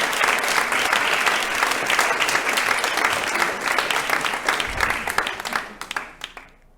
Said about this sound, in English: Man, I wish I'd get that kind of applause.